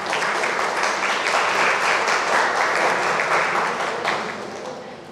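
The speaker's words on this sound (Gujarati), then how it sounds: "આપણે બધા તાળીઓથી તેમને સ્વાગત કરીશું" Sustained applause from a crowd at a Ranoli village camp gathering, welcoming a guest with a bouquet; steady, dense clapping at even loudness that tapers slightly toward the end, with no one speaking over it.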